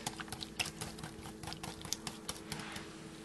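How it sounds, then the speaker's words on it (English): A whisk beats pumpkin pie filling in a bowl, giving quick, rapid clicking and tapping against the sides, steady and soft at close range. "Let's give this a good whisk."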